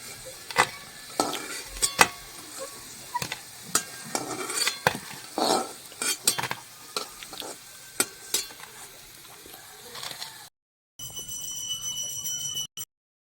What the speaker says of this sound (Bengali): তোমার বড়াগুলো ভাজা হয়ে গেছে আমি এখন উঠিয়ে নেব